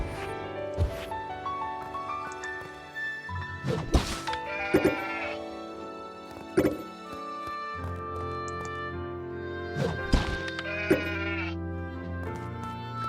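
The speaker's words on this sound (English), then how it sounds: "Also, I might just want to kill these sheep again," Sheep in the video game Craftopia bleat repeatedly over a steady background hum, with several sharp thwacks and thuds between the cries, close and moderately loud.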